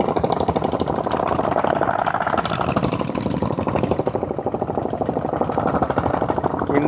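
Diesel Royal Enfield Bullet motorcycle climbing the hill road to Yercaud, a loud steady rapid thumping engine knock with a harsh clattering rhythm, continuous and close, without talk.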